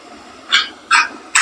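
A dog barks three times in short, separate bursts, fairly loud and close, against a quiet background with no talking.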